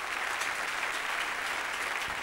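Audience applause filling a hall during a Tamil film tribute event, a dense steady roar of many hands clapping throughout, close and even in loudness.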